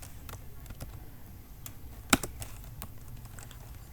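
Code being typed on a computer keyboard: a steady run of soft, close key clicks with one sharper, louder keystroke midway, no talking.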